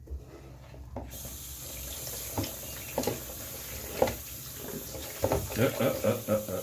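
Water running from a tap while a foster pig is rinsed in a bath, a steady close splash under intermittent clunks and heavier splashing toward the end.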